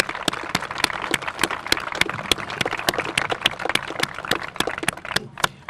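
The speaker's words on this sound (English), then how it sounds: "So a big round of applause for all my friends in the Hawes family" An audience claps at the grand opening of the Sawmill River Reserve, giving applause for the Hawes family: crisp, dense clapping that holds steady for several seconds before thinning at the end.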